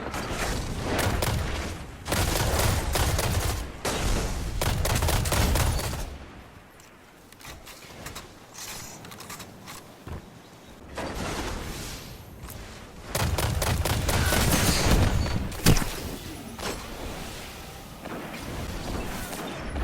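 A Suros DIS-47 fires full-auto in video game combat, with long sustained bursts of rapid gunfire separated by brief lulls, loud and close, mixed with booms and impacts.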